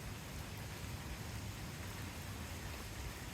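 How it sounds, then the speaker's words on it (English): Steady rain falls outside beside a deck on a cool day after a passing storm, a soft, even hiss of drops on surfaces that holds unchanged throughout, faint and fairly distant, with no voices. "just listening to the sound of the rain"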